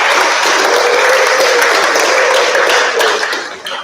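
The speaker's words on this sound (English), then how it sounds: "please give yourself a round of applause for trying" Students at a middle school awards ceremony break into loud, sustained applause from a crowd in a hall, fading slightly at the very end.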